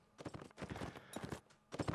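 Cavalry horses from the Black Horse Brigade clatter along in a Mount & Blade North & South mod line battle, a rapid, overlapping clip-clop of many hooves, fairly soft and distant, with brief pauses between bursts.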